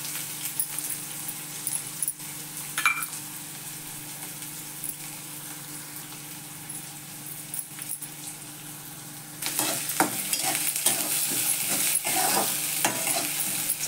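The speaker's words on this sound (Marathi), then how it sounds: "चांगलं परतू द्यायचं." Peanuts sautéing in a pan with curry leaves and onion, with a continuous close sizzle and a spatula stirring and scraping, the stirring growing busier toward the end.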